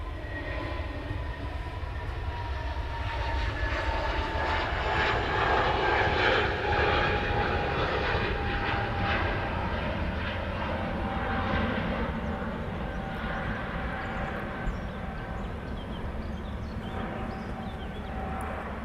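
An EasyJet airliner at Manchester Airport, its jet engines producing a loud, sustained roar and whine that swells and slowly fades, heard from outdoors without talk.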